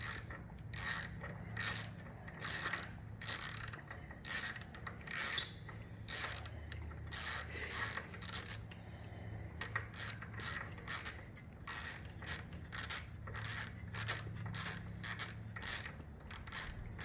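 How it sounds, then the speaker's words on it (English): A ratchet wrench with a 5 mm socket clicks steadily as it backs out a small bolt on a Triumph Street Scrambler, with rapid repeated ratcheting bursts and short pauses close up. "The 5 mil on the back here, we're just going to take this little bolt off right here."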